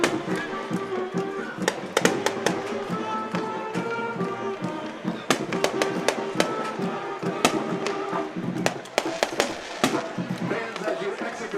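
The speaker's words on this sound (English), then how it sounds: "as the fireworks from TNT are going off" Fireworks go off after a high school football game at the Lincoln at Moody stadium: rapid, sharp crackling pops and bangs, many in quick succession, with a crowd and a voice speaking over them.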